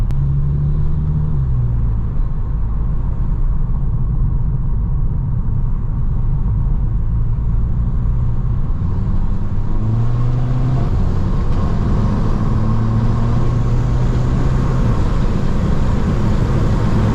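Volkswagen Scirocco accelerating hard, heard from inside the car: a loud engine drone climbs in pitch through the gears, dropping and rising again with each shift.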